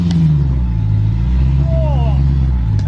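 A 4WD vehicle engine runs at close range with a loud, steady low rumble and a slight rise in pitch as it is revved, while people talk over it.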